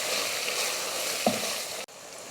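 Ground biryani masala and ginger-garlic paste sizzle in a pressure cooker for mutton biryani, a brief, even frying hiss with one short stirring knock.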